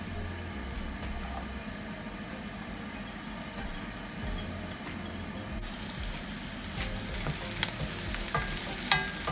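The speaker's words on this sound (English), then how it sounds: "I've put some rapeseed oil in the pan, and I'm going to add some chopped red onions." Chopped red onions fry in rapeseed oil in a pan with a steady, even sizzle that holds throughout and brightens in the second half, with no talk.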